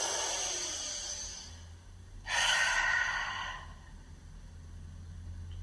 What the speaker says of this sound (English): One last breath.